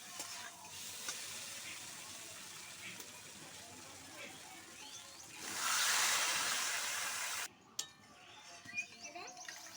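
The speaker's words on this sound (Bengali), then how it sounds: "এবার দিয়ে দিচ্ছি পরিমাণ মতো জল।" Water poured into a pan of frying spiced potatoes and drumsticks, bursting into a loud hiss and sizzle that swells for a couple of seconds before settling into a quiet, crackling simmer.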